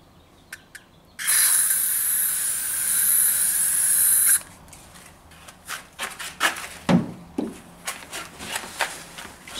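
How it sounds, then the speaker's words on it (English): Aerosol bug spray hissing onto a truck headlight in a loud, steady burst of about three seconds, followed by softer clicks and handling noises close by. "I'm just going to do my best to spray it as much on the headlight as I can"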